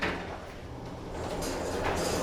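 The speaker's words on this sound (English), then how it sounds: "Door closes when you push the button." A US/Kimball traction elevator door at the Henry Koffler Building slides shut, a continuous rumbling, hissing glide that grows slightly louder toward the end.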